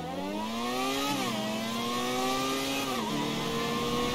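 Car engine in GTA 5 revving steadily while driving, its pitch climbing and dipping through gear shifts, loud and continuous throughout with no talk.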